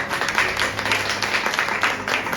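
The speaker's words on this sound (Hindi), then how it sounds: "ताली बजा दो यीशु मसीह ने" A church congregation claps hands together, producing a dense, steady wash of many overlapping claps at moderate distance, continuing evenly throughout.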